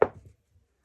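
Dice land on a craps table with one short, close clatter that dies away fast into near silence.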